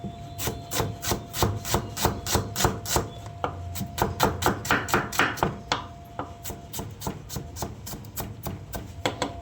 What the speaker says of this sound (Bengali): তো চলুন আমি একের পর এক অনিয়নগুলো কেটে নিই